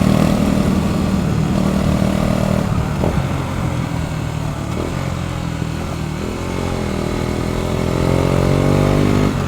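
A small motorbike engine runs close by while riding, its revving tone rising and falling and climbing steadily toward the end, with no talking.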